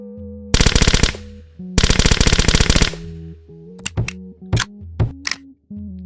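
Suppressed submachine gun in a video game, with a larger magazine and faster fire rate than the MP9, firing two long rapid bursts followed by several short single shots and clicks over a steady background hum.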